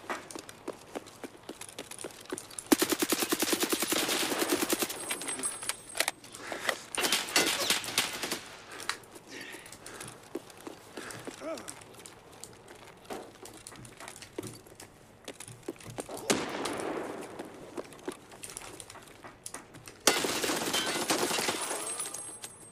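Gunfire in Escape from Tarkov comes in several bursts of rapid shots spread across the clip, some loud and close, others fainter, with quieter stretches of scattered clatter between them.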